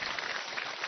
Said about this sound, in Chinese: 观众朋友想看的鼓鼓掌